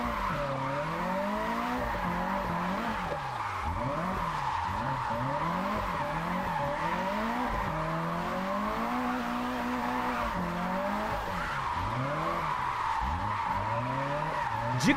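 A car in the video game Japanese Drift Master skids and drifts in fourth gear, its tires squealing in long wavering sweeps over a continuous engine roar that rises and falls without pause.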